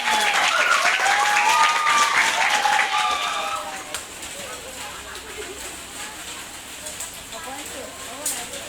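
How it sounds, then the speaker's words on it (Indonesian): Schoolchildren and teachers at a junior high school in Bintan give a round of applause, loud and full for about four seconds, then dropping to scattered, fainter claps and room murmur. "tepuk tangan untuk kalian semua"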